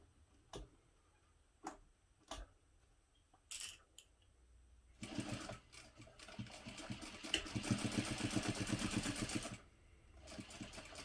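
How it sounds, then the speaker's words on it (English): After a few clicks and handling taps, a sewing machine stitches strap ends together with a 1/4 inch seam, running as a steady rapid needle rhythm for several seconds and then stopping, close with no talk. "I'm going to sew them together using a 1/4 inch seam allowance."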